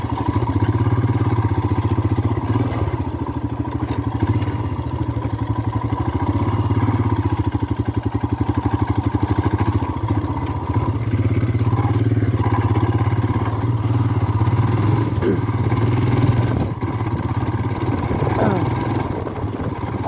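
A motorcycle rides along a shortcut road off the main highway, its engine a steady, close drone that holds throughout with some rattling.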